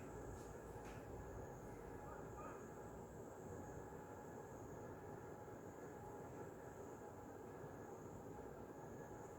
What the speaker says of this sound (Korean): 기차가 엄청 빠른 것 같아.